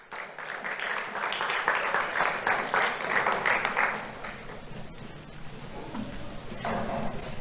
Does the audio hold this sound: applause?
yes